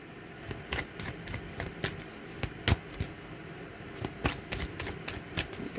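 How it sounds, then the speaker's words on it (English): A deck of angel oracle cards is shuffled repeatedly by hand, giving crisp riffling snaps and soft slides in an uneven rhythm, close and alone without talk. "Good shuffle."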